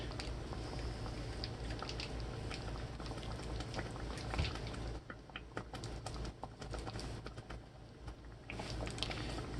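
Chili heating in a pot, a thick continuous bubbling and popping close up, with a dense crackle of small bursts running steadily throughout and no talk.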